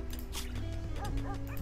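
A puppy barks in the colony-building video game RimWorld Alpha 13: a few short, high yips rise over steady game tones and background sound.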